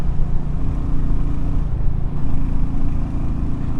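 A motorbike engine labours up a 10% hill climb with a low, steady drone, loud and close, holding a heavy note without letting up.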